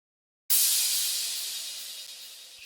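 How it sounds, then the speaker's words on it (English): A single crash cymbal hit rings out bright and shimmering after a short silence, then slowly decays, heard alone. "Then I added this crash."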